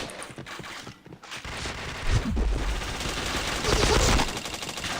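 Rapid bursts of gunfire from a shooter video game, with dense automatic fire that grows louder partway through and stays heavy to the end, mixed with game effects.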